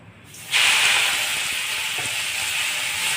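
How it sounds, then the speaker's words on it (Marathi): Thalipeeth mixture with mint hitting hot oil, a sudden loud sizzle that starts abruptly and holds as a steady close hiss. "आता आपण हे तेलात परतून घेत आहोत"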